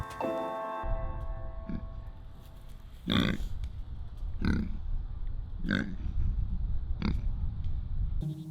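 Pigs grunt in a slow series of five or so short, rough bursts about a second apart, close by in a farm field on Cape Cod, over a constant low rumble.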